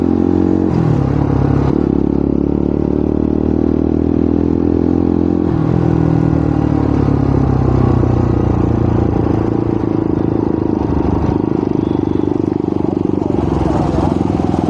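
Several motorcycles ride along a road between Khandwa and Ujjain, their engines droning loudly and shifting pitch throughout, with wind buffeting and a voice speaking over the noise.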